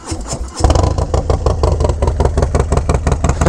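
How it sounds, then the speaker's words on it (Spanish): A Harley-Davidson Low Rider S motorcycle engine catches after a brief quiet start, then settles into a loud, steady, close-up lumpy idle with a regular pulsing beat that continues throughout. "Vamos a prender la moto primero."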